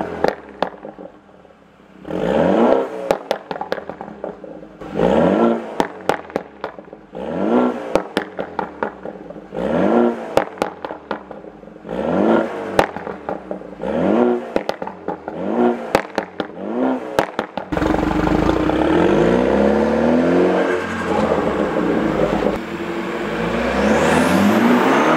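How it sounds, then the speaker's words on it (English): A Honda Civic Type R (FK8) with an AWE Tuning exhaust and AWE S-Flow carbon fiber intake revs repeatedly in sharp bursts with a throaty exhaust, followed by a sustained loud roar and crackle as it accelerates away. "think his car is gonna sound way better with an actual exhaust on it"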